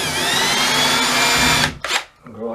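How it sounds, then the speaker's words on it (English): Power drill boring a pilot hole for a screw during a corner shower faucet install, a steady close whine running about a second and a half before winding down, followed by brief handling noise. "go ahead and drill the pilot through there just so the screw goes in a little easier"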